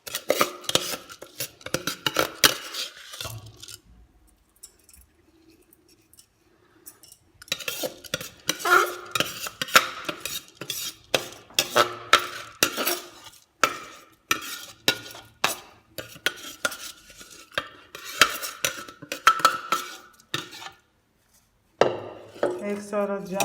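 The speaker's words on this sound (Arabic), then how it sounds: "نجيب الرز اللي احنا جهزناه وتبلناه نحطه فوق البتنجان بالطريقة هذه" A spoon scrapes and taps against a metal pot as seasoned rice is spooned onto layered eggplant for Gaza-style maqluba with meat, in a steady run of clinks and scoops with a quiet pause partway through.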